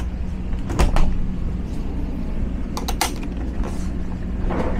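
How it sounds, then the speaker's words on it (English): The refrigerator door in a 2022 Renegade Verona 36VSB motorhome opens with a couple of brief clicks and a soft creak, close by and fairly quiet. "Your fridge opens."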